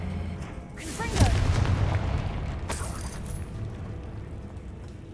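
A Confringo fire spell cast in Hogwarts Legacy bursts with a loud, booming blast that swells quickly and trails off into a rumbling, crackling tail, with a sharper whoosh about a second and a half later.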